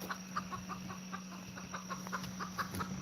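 A hen clucks in a short run of soft, evenly spaced clucks over a constant low hum, fairly close but not loud.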